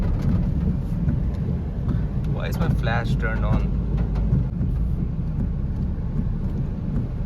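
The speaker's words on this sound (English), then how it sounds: "It's raining since morning, on and off." Monsoon rain pours steadily over Kolkata on a July evening, a dense hiss with low rumbling, as a person speaks briefly midway over the downpour.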